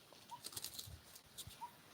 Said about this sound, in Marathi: मस्त पक्ष्यांचा आवाज ऐका वाटतो